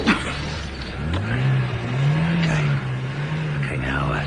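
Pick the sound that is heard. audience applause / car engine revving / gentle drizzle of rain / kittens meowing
car engine revving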